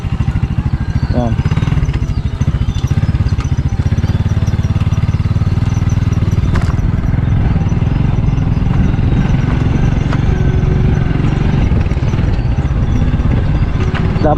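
A motorcycle labors along a rough, bad rural road, its engine droning loud and close throughout with clattering rattles from the bumpy surface.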